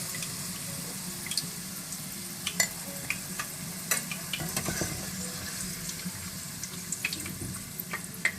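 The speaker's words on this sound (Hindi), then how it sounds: "इसी तरह से आप सारी भिंडियां फ्राई कर लें" Okra (bhindi) frying in a pan, with a steady low sizzle and crackle, broken by scattered clinks and stirring scrapes, fairly faint and close, with no talking.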